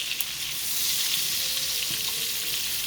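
Shrimp fry in a pan for garlic shrimp, giving a steady soft hiss and crackle of sizzling oil that continues alone without pause.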